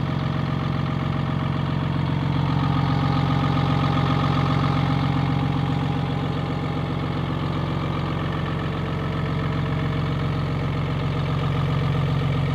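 A Cummins 6.7-liter turbocharged inline-six diesel in a 2017 RAM 2500 idles with a steady, loud low rumble and clattering diesel knock, running alone at an even pace throughout.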